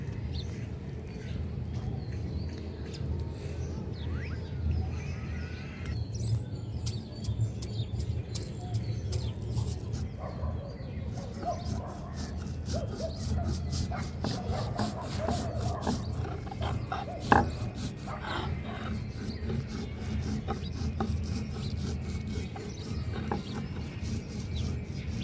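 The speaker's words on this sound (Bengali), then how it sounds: "আমি এখন এখানে জিরা বেটে নেব।" Cumin seeds are ground by hand on a grinding stone at a village-style rooftop kitchen, producing a soft, steady back-and-forth rubbing scrape while birds chirp faintly in the background.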